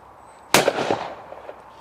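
A single loud 16 bore shotgun blast fired at a clay target, sharp and close, with its report rolling off and fading over the following second.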